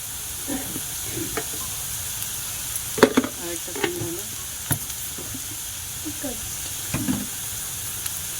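Turmeric tipped into hot oil while leftover chapati is fried for phodnichi chapati, a steady close sizzle and hiss with scattered stirring clicks and taps, and a voice speaking quietly now and then.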